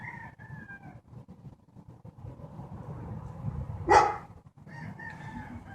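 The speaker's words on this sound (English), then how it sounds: "Now we got the dogs and the roosters." Rooster crowing close by, one bright call rising out of steady low rumble and murmuring background, with fainter animal calls and possible dog barks around it.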